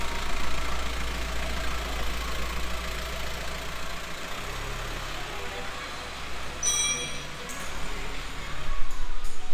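A VW T5 Transporter van engine runs after an engine change, a steady low idling drone with a slight knock, a brief dip midway and a faint high whine near the end.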